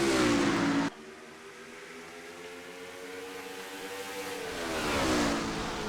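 Race cars in a video game at Richmond rev up after a restart, a loud burst cutting off into a steady, rising engine whine that swells again near the end.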